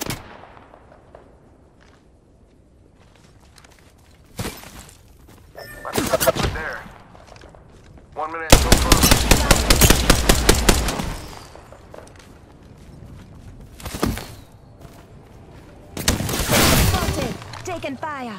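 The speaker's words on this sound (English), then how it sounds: "Getting shot at." Bursts of Apex Legends gunfire arrive in several clusters, with one long sustained volley in the middle and shorter sharp salvos before and after, loud and punchy over a quieter game backdrop.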